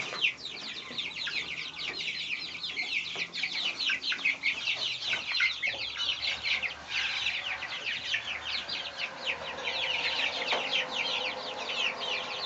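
Many young Silkie chicks chirp nonstop in a busy, high-pitched chorus, near and steady, with no speech.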